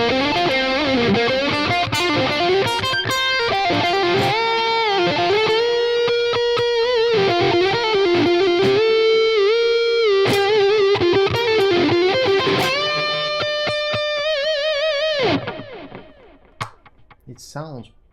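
An electric guitar played with both pickups selected sounds through a distorted amp setting, a steady run of notes and chords that ends sharply and fades into quiet near the end.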